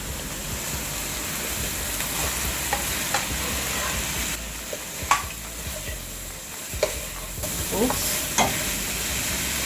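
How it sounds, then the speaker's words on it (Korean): Shrimp, squid and vegetables sizzle and crackle in a hot pan while being stir-fried, with occasional scraping clicks over a steady frying hiss. "채소 넣고 마지막으로 볶아주면 끝!"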